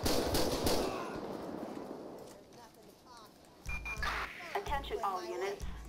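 Rapid gunfire rattles loudly at the start in Grand Theft Auto V, then fades as voices speak over thumping background sounds.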